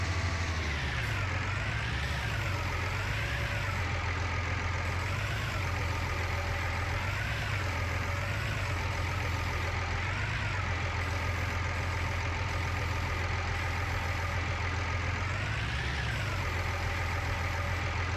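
Tractor engine in the farming game Farming Simulator 19, a continuous low rumbling drone that rises and falls in pitch as the machine revs and slows, steady and close with no voices.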